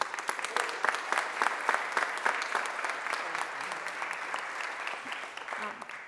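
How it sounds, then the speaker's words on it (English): Applause at a press conference, a sustained round of clapping from a crowd with dense rapid claps that hold steady and fade slightly toward the end. "want you to give a huge round of applause to Ms. Joyce Wilkerson."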